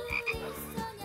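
A short frog croak effect sounds over light background music, a quick run of rasping croaks, fairly loud and close, with nobody speaking.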